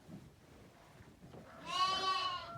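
Sheep and lambs on a Ukrainian sheep farm, with quiet shuffling background noise and then one loud, nearby quavering bleat that lasts close to a second.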